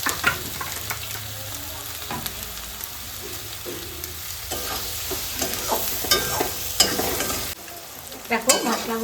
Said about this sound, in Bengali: আমি একটু হালকা আছে মশলাগুলো কষিয়ে নিলাম